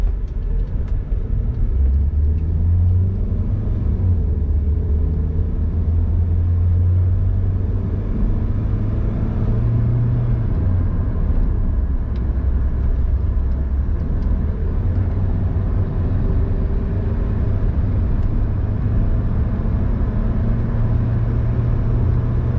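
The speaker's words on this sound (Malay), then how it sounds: "Bila dah siap, kita start kereta." A car engine idling just after a restart: a steady, fairly loud low rumble with a droning hum that shifts pitch a few times, heard alone without talk.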